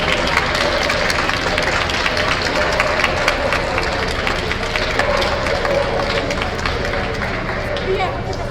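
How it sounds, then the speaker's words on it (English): Sustained applause and clapping from a dog show audience at the 2007 CWCCA national, a steady crowd wash with a murmur of voices underneath, lasting throughout without breaks. "Nice round of applause by the fancy."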